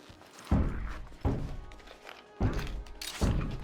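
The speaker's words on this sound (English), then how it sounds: "we gotta stop this guy from banging on the door" A zombie pounds on a door in a video game, giving four heavy, booming thuds at uneven intervals, each followed by a short rattle as the blow fades.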